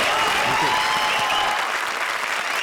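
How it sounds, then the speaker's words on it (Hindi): Studio audience of a Hindi comedy show applauding loudly, a thick continuous roar of clapping sustained throughout, close and full, with a faint voice or tone lingering underneath. "जोरदार तालियां VIP और फ्रेंड्स के लिए"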